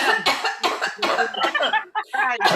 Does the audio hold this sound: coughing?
yes